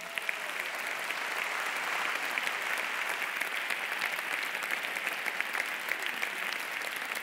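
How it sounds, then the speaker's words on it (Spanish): Sustained audience applause fills the seating area at the Navarra Televisión awards gala, a steady, dense roar of many hands clapping that carries on evenly with no voices on top. "tenemos el aplauso de este público"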